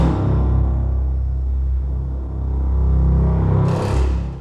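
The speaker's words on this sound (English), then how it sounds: "which is called inverted Normale or inverted Tremolo as extra patches." A String Contours 2 inverted tremolo string patch, loud sustained low strings that swell and ebb with dense harmonics, a brighter high wash rising near the end, with no talking.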